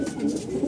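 A pigeon cooing close by: a brief, soft, low throaty coo lasting under a second, with no other sounds around it.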